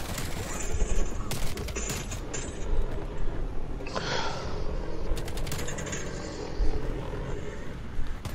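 Rapid gunfire bursts in a first-person shooter video game, sharp volleys and scattered shots popping at close range over busy game noise, with a brief loud flurry midway and another near the end.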